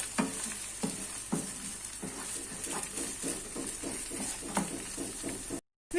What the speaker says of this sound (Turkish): Domates salçamızla soğanımızı da güzelce kavuralım.